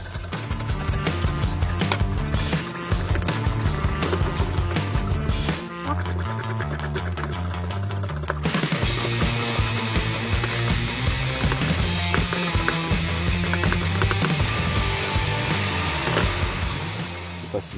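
Old lawnmower blade being cleaned, with busy scraping and grinding clatter running continuously and loudly close by, the texture shifting partway through, and no speech.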